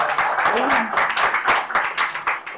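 An audience at a religious outreach event in Bandung breaks into brief, dense clapping, close and lively, lasting a couple of seconds.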